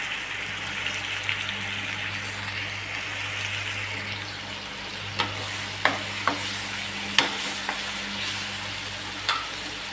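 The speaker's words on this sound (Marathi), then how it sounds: "तेलात 1-2 मिनिट परतून घेऊ." Soybean khichdi mixture sautés in oil in a pan on low heat, a steady soft sizzle with a low hum beneath and occasional sharp taps of a spoon against the pan.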